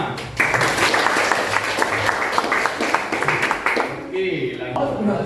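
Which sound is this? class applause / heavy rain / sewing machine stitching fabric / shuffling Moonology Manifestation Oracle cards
class applause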